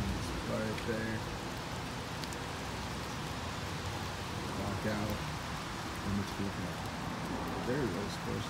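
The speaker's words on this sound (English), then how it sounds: "Nice rainy day." Steady rainfall patters softly and continuously on a rose garden, with faint bird calls and a few distant voices in the background.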